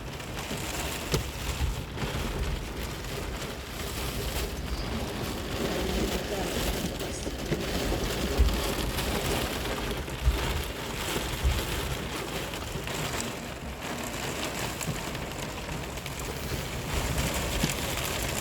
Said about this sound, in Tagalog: Lakas ng ulan, pati hangin.